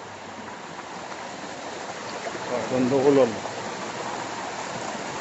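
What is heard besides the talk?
flowing mountain stream water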